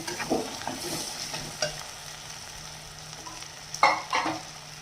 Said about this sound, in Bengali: এবার আমি সেদ্ধ করা আলুটাকে দেবো। এবার এটাকে মশলার সাথে ভালো করে কষিয়ে নেব।